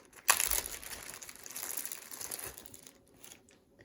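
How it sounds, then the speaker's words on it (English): Close crinkling and rustling of a plastic bag as clay is taken out of it, with a sharp crackle at the start and softer crumpling fading out. "Take the clay out of the plastic bag."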